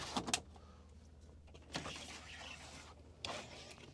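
Window blinds in a Possl Roadstar 600L campervan retracting and clicking into place: a couple of sharp clicks, then two smooth whirring slides, heard close up in a quiet interior.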